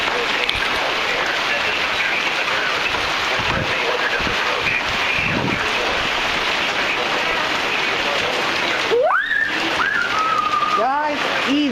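Hail and gusting wind in a thunderstorm in Tacoma, Washington, a loud steady hiss and rush of pellets and wind buffeting the microphone, with a voice crying out briefly near the end.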